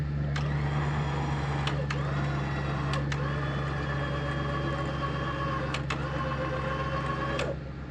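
An engine running at a steady idle, loud and close, with a constant hum and a few sharp clicks or ticks breaking in; it eases slightly near the end.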